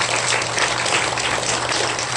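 A church congregation gives a brief burst of dense, steady applause during a Sunday morning worship service, welcoming a newly appointed group leader.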